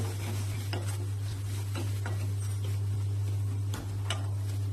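Turmeric, coriander powder and garam masala stirred together in a pan, with scraping and clinking spoon strokes over a steady low hum, loud and close, no voices.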